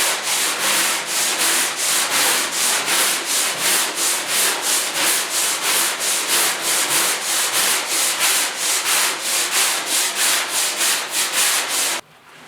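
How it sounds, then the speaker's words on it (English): 80-grit sandpaper scrubs a rusty door panel on a 1972 Ford 4x4 pickup in fast, even back-and-forth strokes, about three per second, close and loud, stopping abruptly at the end. "Just stroking them right now with 80 grit."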